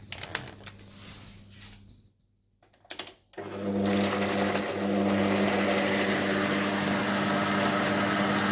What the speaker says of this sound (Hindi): आप चॉपर में या ब्लेंडर में दही और ब्राउन प्याज डालकर पीस लें